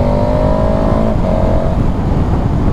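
A KTM 1290 Super Adventure S motorcycle engine drones loudly and steadily while riding along a winding Austrian road, holding a near-constant pitch with a brief dip partway through.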